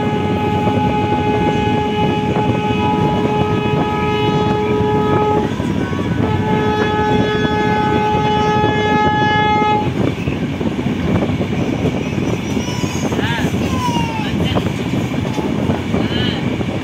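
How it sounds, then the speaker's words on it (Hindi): A Vande Bharat Express train passing alongside, heard from aboard another train: a long sustained horn with steady tones, then continuous rumbling rail noise with clatter, loud and close, while people talk. "देखिए वंदे भारत एक्सप्रेस भी जा रहा है साथ में"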